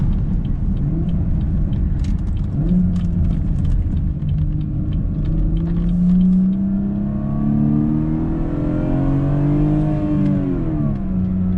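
A BMW with an M Performance exhaust downshifts near a tunnel, the engine rumbling loudly and blipping up in pitch through successive gear changes, heard from inside the car.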